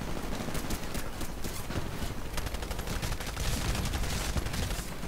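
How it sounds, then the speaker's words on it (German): Rapid bursts of gunfire from a video game shooter, dense and continuous with overlapping shots throughout, loud and busy with no clear pauses. "Da werden wir direkt angeschossen."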